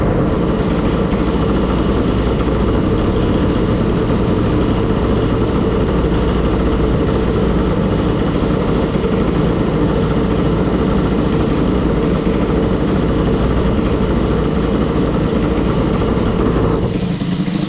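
A scooter engine idles steadily and loudly up close, with a faint metallic rattle from loose variator weights running through its even hum.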